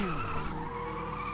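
Formula Trainer race car in Automobilista at Oulton Park spinning under heavy braking, its tires skidding in a loud, sustained squeal with a falling pitch alongside the steady engine drone, no talk.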